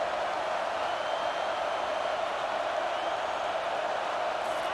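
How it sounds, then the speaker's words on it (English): Stadium crowd noise from the College Football 25 video game, Maryland against Oregon, a steady, broad roar held at an even level throughout, with no distinct cheers or applause bursts. "This crowd going to try to make life miserable for these guys."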